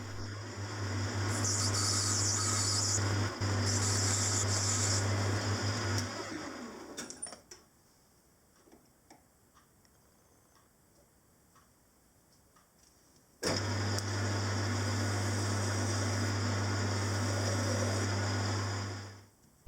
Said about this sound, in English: Now I'll turn it down to slightly oversized.